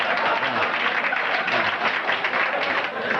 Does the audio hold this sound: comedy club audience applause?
yes